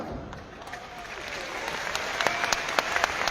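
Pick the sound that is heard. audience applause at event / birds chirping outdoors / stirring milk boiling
audience applause at event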